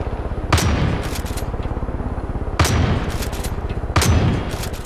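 Loud Far Cry 5 gunfire keeps up a fast steady rattle of automatic shots, punctuated by three heavier booming blasts spaced a couple of seconds apart, close and without speech.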